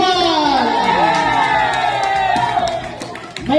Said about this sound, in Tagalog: malakas na palakpak para po sa ating mga naglalaro